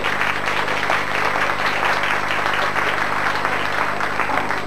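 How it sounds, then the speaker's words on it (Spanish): Strong audience applause at a school poetry contest broadcast on radio, dense and steady clapping from a crowd filling the whole stretch, loud and close with no speech. "el aplauso fuerte de todos ustedes"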